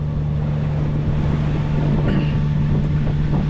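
A solo sailboat motors under engine near Catalina Island, a loud, steady low drone with a strong constant hum, mixed with wind buffeting the microphone and faint water rush throughout.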